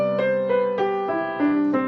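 An eighth-note jazz improvisation line starting on C Ionian over a I-IV-III-VI-II-V-I progression plays as six evenly spaced, clearly struck notes, each ringing into the next, with no speech.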